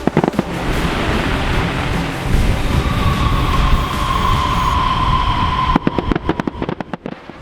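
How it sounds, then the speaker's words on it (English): Night fireworks display in Aruba, with dense crackling and popping bursts building over a roaring rumble, followed by sharp separate bangs near the end, loud and with no talk. "they put on a firework display for us that night"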